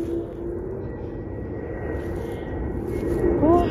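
An airplane passes overhead above a forest in Sweden during a mushroom-picking walk, a low, steady drone that swells slightly toward the end over outdoor background noise.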